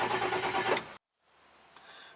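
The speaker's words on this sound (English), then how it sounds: "this is what it sounds like when your engine is cranking over a little bit too slow." A 7.3 Power Stroke diesel truck engine cranks too slowly on weak batteries, a labored, uneven churn for about a second, then cuts off; a faint low hum follows.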